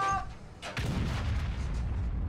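Tank cannon fire in an online tank battle game set in a ghost town: a sharp blast followed by a second heavy boom rolling into a long echoing rumble, loud and close.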